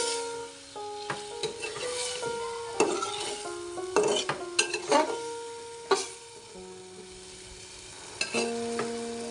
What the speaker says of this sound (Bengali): বেগুন আর টমেটো দিয়ে আমি ভালোভাবে আরেকবার কষিয়ে নিব।